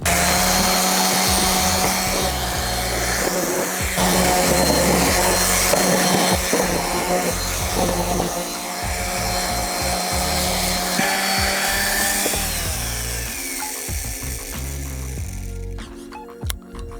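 A power sander whirs and grinds against a wooden desk with steady buzzing friction, shifting in pitch and pressure as the sanding pad breaks off, then cuts off near the end.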